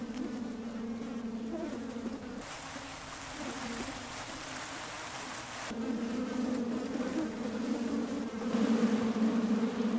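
Flies buzz steadily and close by, with a drone that swells louder partway through over a faint patter in the background.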